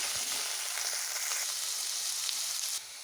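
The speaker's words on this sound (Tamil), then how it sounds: "இப்போ வந்து இஞ்சி பூண்டு பச்சை மிளகாலாம் நல்லா வதக்கி அதையும் சேர்த்துக்கலாம்" Ginger, garlic and green chillies sauté in a pan with a continuous close, even sizzle and hiss, fairly quiet and with no talking.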